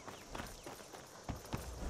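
Horse hooves clip-clopping in a video game, with a few sharper hoof strikes standing out over a busy background of game noise.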